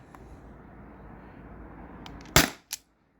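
Airsoft pistol shots from a T4E HDP50 or TR50 fired through a chronograph: a sharp close crack and a second shorter one about a third of a second later, over a faint background hiss.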